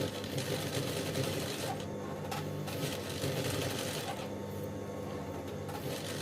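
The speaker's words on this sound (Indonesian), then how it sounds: "Oke, kita akan mulai jahit yang 1 cm nya" A sewing machine stitches a 1 cm seam on a wedding-gown bustier, running steadily and quietly for the whole stretch with a faint continuous whir.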